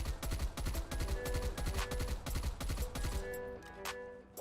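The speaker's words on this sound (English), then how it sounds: "It's gonna be kind of hard to control recoil with this gun" A video game gun fires in fast, loud bursts with heavy recoil, the rapid repeated shots running for about three seconds before breaking off into scattered single reports and faint echoes.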